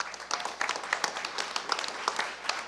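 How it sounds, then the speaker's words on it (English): A conference audience applauds steadily, many overlapping claps forming a dense, lively patter that holds throughout without voices. "a round of applause for Games for Change"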